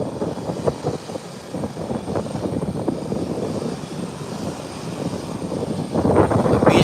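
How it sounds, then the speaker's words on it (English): A Beechcraft 1900 propeller aircraft rolling out at an airport: a low, throbbing engine rumble with uneven pulses runs throughout, swelling louder and brighter near the end as the turboprop spools up. "Beechcraft 1900 is also rolling out"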